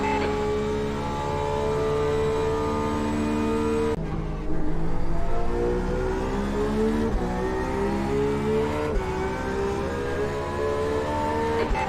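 Race cars at the 24 Hours of Daytona, with LMP2 prototypes overtaking: a continuous loud in-car engine roar with shifting pitch as gears change, punctuated by sharp upshifts and cars rushing past.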